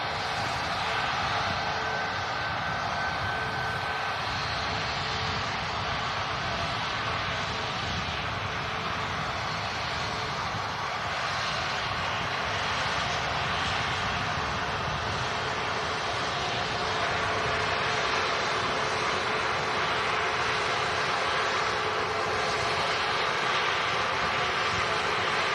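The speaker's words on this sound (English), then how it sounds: "Ryanair 737 taxiing out. Just over on the south side." A Ryanair Boeing 737 airliner taxis at Manchester Airport, its jet engines giving a steady, continuous roar with a broad rushing hiss that holds fairly even throughout, heard from some distance without talk.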